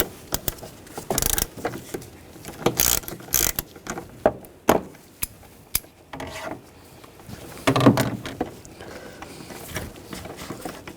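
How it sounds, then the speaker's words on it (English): A ratchet fitted with a 5mm hex socket loosens an engine screw on a 2009-2017 Volkswagen Tiguan during water pump replacement, producing short, irregular bursts of ratcheting clicks and clanks separated by brief pauses, close and without talk. "Now I'm going to use a 5mm hex socket."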